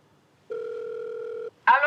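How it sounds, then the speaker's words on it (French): Incoming video call on a phone sounds as one steady electronic tone lasting about a second, loud and close, then a voice begins speaking right after it. "c'est un appel vidéo"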